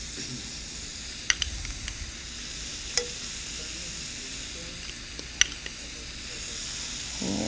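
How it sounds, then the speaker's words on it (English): A steak sears in a pan in a restaurant kitchen with a steady, moderate sizzle and hiss, broken by a few sharp clicks and taps from utensils. "And while that side is searing, we're going to put a liberal portion of whole grain Dijon mustard"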